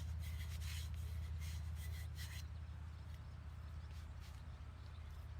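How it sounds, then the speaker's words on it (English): Paint being rubbed around a taped surface, a continuous close scraping rasp with rhythmic strokes, busier at first and then smoother, over a low steady hum. "So then I will just rub all the way around and make sure it's all on there nice and good."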